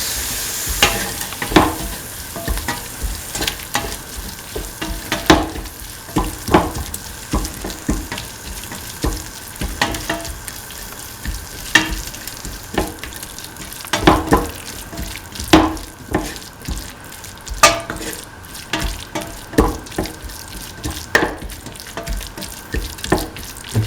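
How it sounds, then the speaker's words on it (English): A spoon stirs a potato and chickpea mixture in a pan with water added, giving repeated scraping strokes over a steady simmering sizzle, close and moderately loud with no talking. "Mix salt until water evaporates."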